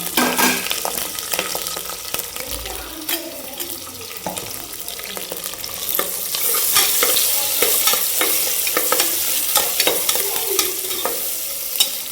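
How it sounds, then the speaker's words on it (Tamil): Ingredients dropped into hot oil in a home kitchen pan, giving a dense continuous sizzle with frequent stirring clatter and utensil clicks, growing louder partway through; no voices. "எண்ணெய் சூடானோடனே அப்படியே நம்ம எல்லாத்தையும் போட்டுக்கலாம்"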